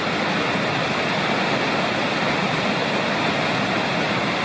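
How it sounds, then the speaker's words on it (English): Huntfish Falls in North Carolina's Lost Cove wilderness pours heavily over granite into a pool below, giving a loud, close, constant roar of rushing water with no break. "here is Huntfish Falls. Lots of granite, lots of water"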